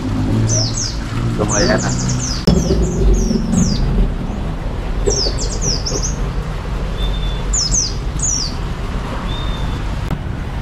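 Pleci (white-eye) birds chirp in quick repeated bursts of high twittering notes, fairly close, over steady background noise with people talking at times.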